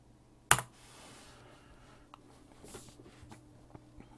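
Someone typing a web address on a computer keyboard: one sharp click followed by a series of soft, scattered key taps, quiet and close in a calm room.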